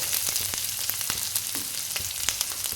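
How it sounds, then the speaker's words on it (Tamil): Ginger frying in hot oil in a pan, a dense steady close sizzle with faint crackles and light regular ticks of stirring throughout. "இஞ்சியை போட்டு நல்லா கிளறி விட்டுக்குங்க"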